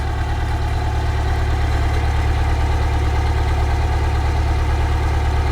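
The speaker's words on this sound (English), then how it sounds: "Let me go shut down the engine." The swapped-in engine of a 1962 SceniCruiser bus idles with a steady, heavy low rumble and constant vibration throughout, close and loud, with no voices.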